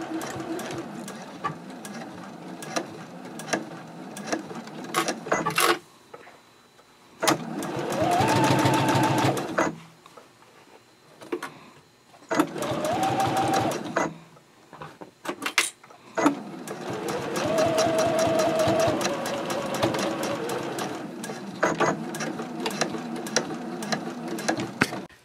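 A home sewing machine stitches the opposite side of a zipper case's side panels at stitch length 3.0, running in several steady bursts of rapid mechanical whirring separated by short pauses for backstitching, close and loud.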